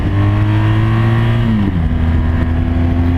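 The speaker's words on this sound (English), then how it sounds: "Just a matter of releasing the clutch slowly, and it's not jerky at all. Really accelerates very well." A BMW GS adventure motorcycle engine pulls away as the clutch is released, a loud steady drone that dips in pitch partway through, close and alone without speech.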